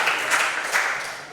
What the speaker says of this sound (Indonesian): kita tepuk tangan dulu dong ya bagi penjawab